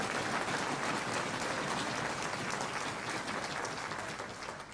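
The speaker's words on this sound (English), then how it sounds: "So I'm going to give them a round of applause" Dense, even round of applause from a conference audience at a Main Streets closing plenary, filling the whole stretch and tapering slightly toward the end, with no speech.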